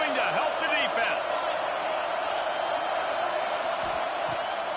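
A college football stadium crowd roars steadily in a late-game defensive stand, a dense wash of distant voices and whoops with a few scattered bangs.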